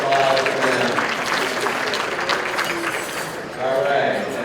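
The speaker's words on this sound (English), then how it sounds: "All right, a round of applause for them" Guests at a 2012 mayor's business luncheon give the Comptroller's Office a round of dense, steady applause that dips briefly and then swells again, with voices mixed in.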